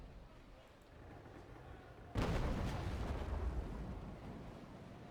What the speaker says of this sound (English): And we used a cannon.